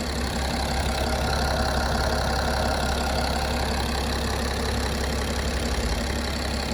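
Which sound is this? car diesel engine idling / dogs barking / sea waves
car diesel engine idling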